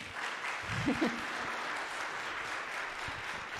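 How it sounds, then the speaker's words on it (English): Audience applause at a student recital, a steady wash of clapping throughout with a brief spoken word or two mixed in near the start. "I think you guys should give Kathy a round of applause, too"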